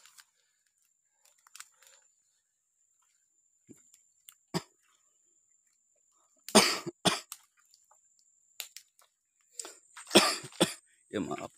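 Several harsh coughs in bursts outdoors in a dried mangrove forest, a couple of isolated ones early, then louder clustered coughing fits near the end, close to the microphone.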